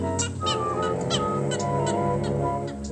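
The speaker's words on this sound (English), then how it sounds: "The gallinule's angry scolding gives warning that the prowler of the Everglades is still on the loose." A gallinule in the Everglades gives an angry scolding call, a series of short honking, clucking notes repeated several times over a sustained orchestral music score.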